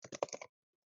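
A password being typed on a Mac keyboard, five or six quick, close key clicks in a short burst, then silence.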